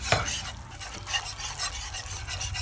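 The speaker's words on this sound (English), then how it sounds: "The trick with roux is you cannot walk away. You have to keep stirring it and stirring it and stirring it." Roux of flour and fat for gumbo stirred steadily in a pot, a soft continuous scraping with a faint sizzle, close and moderately quiet, no voices.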